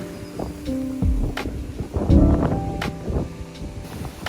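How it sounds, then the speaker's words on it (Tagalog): Gusty wind in Jeju buffets the microphone with low rumbling bursts, rising and falling in strength throughout. "Sobrang hangin dito ngayon sa Jeju."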